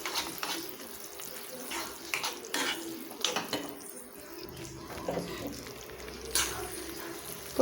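Water splashes into a pan of simmering mushroom Manchurian gravy, a continuous hissing pour with bubbling and stirring sounds, close and fairly loud throughout.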